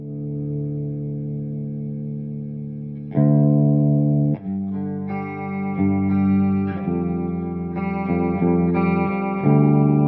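A clean electric guitar plays sustained chords and single notes through an Orange OR100 valve amp head on its clean channel at full power, full and warm with slight shimmer, no voice over it.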